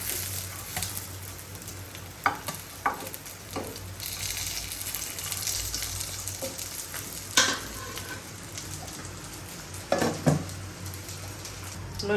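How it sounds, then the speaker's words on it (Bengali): Loitta fish curry frying in a pan, with a continuous close sizzle punctuated by several brief scraping stirs and clinks of the utensil against the pan. "আর কয়টাই দিয়ে একদম ভাজা ভাজা করবো।"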